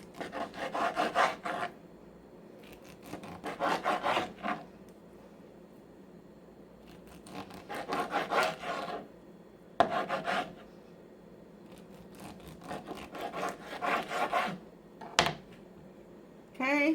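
A knife saws through sausages on a cutting board in a home kitchen, in repeated rhythmic bursts of rasping strokes separated by short pauses, close and moderately loud.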